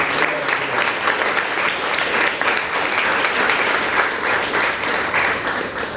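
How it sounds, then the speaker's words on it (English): Steady audience applause at a Toastmasters meeting, dense and even throughout with no talk over it. "So please give a round of applause for everybody who came here"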